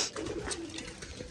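Thappay pigeons in a loft cooing near and steady over a short stretch, with soft rustling around them and no talking.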